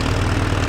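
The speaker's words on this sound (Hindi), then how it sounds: "अभी ये ट्रैक्टर 1500 आरपीएम पे चल रहा है" A Mahindra Arjun 4WD 50 HP tractor engine runs at 1500 rpm, giving a steady, close, low droning hum with no change across the brief moment.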